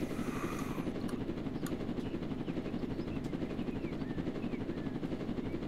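A cargo aircraft in the Roblox video game flies overhead, making a steady, loud droning roar with rapid rhythmic chopping that runs continuously and never lets up.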